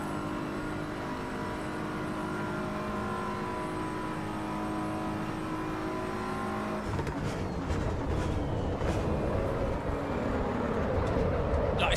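Car engine in Assetto Corsa drifting through a corner: a steady droning engine tone holds for several seconds, then shifts into a rougher, louder, tyre-and-revving texture as the back end slides, continuous with no talk.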